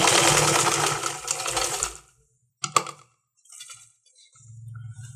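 A sewing machine stitching the side seam of a kameez whirs loudly for about two seconds, then stops, followed by a sharp clack and a few faint mechanical shuffles before a low hum returns.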